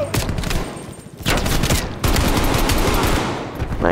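Dense, loud automatic gunfire rattles almost without pause in a Call of Duty Black Ops Cold War match, with bursts stacking into a sustained fusillade and only a brief dip partway through.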